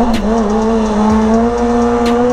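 Motorcycle engine held at high revs during a wheelie, a loud, steady buzzing drone with a slight wavering pitch that runs unbroken from start to finish and stands alone with no talking.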